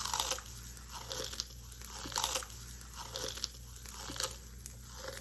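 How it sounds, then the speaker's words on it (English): Crisp, crunchy crushing of Fritos corn chips, repeated crackling bursts in a steady rhythm, close and clear with no talking. "Okay, let's crush this one up."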